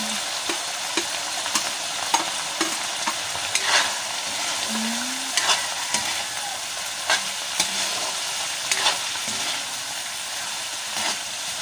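Hot dogs frying in a pan: a steady crackling sizzle with occasional stirring clinks and scrapes, close and continuous, with no talking.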